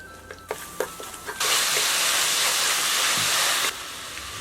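Minced garlic, ginger and chili sauce hit a hot wok and burst into a loud, steady sizzling hiss that lasts about two seconds. A few light utensil taps come just before it, and a quieter crackle follows.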